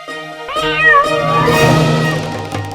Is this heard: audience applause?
no